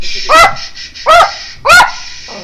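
Three loud, sharp barks from a small dog, close by and evenly spaced about half a second apart, each a short high yap with nothing else heard between them.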